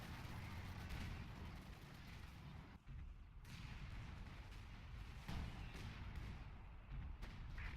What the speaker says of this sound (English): Yeah, artillery is so powerful in team games.